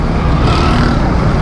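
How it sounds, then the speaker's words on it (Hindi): Continuous, loud road traffic on a busy Karachi street, with vehicles rumbling and passing close by in a steady wash of engine and road noise. "ट्रैफिक आ रहा है, ट्रैफिक आ रहा"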